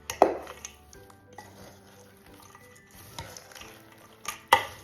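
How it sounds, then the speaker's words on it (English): A spoon stirs a green pea salad in a bowl, giving soft wet mixing sounds with a few sharp clinks of utensil against dish at the start and end, close and fairly quiet. "Let's stir it up."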